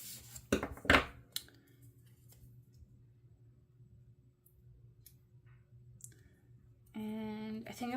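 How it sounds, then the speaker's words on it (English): Scissors snip through a paper sticker sheet during a February planner setup, with a few sharp close clicks and cuts near the start, followed by quiet rustling and a steady low hum, then a voice begins at the end. "I do want to grab some scissors here because this one here I'm going to cut right down there"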